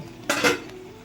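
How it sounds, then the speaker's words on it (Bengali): A lid lifted off a cooking pan while pomfret fish pakoras simmer in gravy, giving one brief metallic clatter and scrape, close and clear, with no talk. "আমি এবার ঢাকাটা খুলে দেখব"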